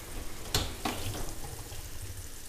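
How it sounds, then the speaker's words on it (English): A beef roast browns in a pan for a pot roast, giving a steady low sizzle with a couple of sharp spatters near the start. "So we got our steak, our roast in there browning."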